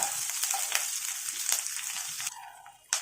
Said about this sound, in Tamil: வெங்காயம் சீக்கிரத்தில் வதங்கி வந்துடும்